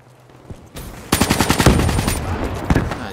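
Automatic gunfire in the online shooter Call of Duty Black Ops III during a team deathmatch, loud rapid bursts that rattle off in a steady stream after a short pause, close and dominant.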